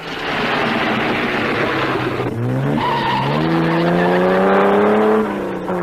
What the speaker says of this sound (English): The Porsche is frantically trying to make up time lost further down.